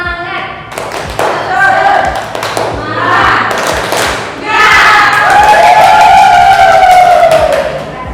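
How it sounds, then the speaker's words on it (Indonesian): A classroom of pupils performs a rhythmic tepuk semangat spirit clap, loud and close, with patterned thumping claps and children's voices chanting and cheering along. "di sini Ibu ingin mendengar tepuk semangat dari kalian semua"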